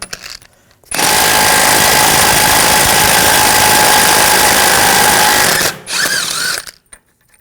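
A power ratchet with a 12.30mm socket works on the rear hub of a 2007-2013 BMW 328i, giving one loud, continuous mechanical rattle of about four and a half seconds up close, then a shorter burst before it stops.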